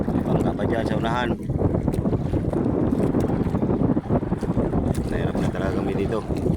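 A small fishing boat (bangka) on open water, its motor and the wind battering the microphone in a loud, constant rush, with people talking over it throughout.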